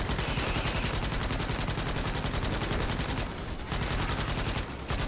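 Continuous loud gunfire from the Starship Troopers: Extermination video game, a dense steady rattle of automatic weapons with two brief dips, and no talking.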